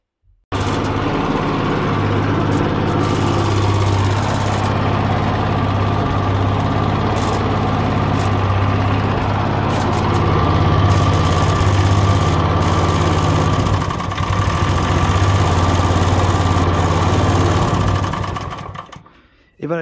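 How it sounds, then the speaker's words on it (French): An IBEA 420 lawn mower engine, running on old drain oil, fires up and settles into a steady, loud, close idle with a strong low hum that carries on unbroken for the whole stretch. "Et voilà les amis, il démarre au quart de tour."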